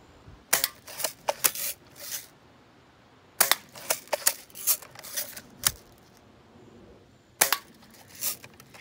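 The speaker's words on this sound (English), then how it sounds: "It's just a fun little BB gun. That's the Daisy Model 225." Daisy Model 225 BB gun fired quickly in three bursts of sharp snapping shots, several cracks in rapid succession each time with short pauses between, close and loud with no talk.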